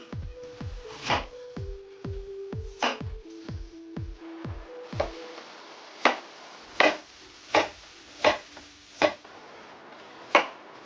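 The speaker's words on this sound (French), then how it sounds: "il reste à couper les petits morceaux de pommes" A knife chops apples into small pieces on a cutting board, producing a quick run of dull, close knocks followed by slower, spaced, sharper chops, with no talking.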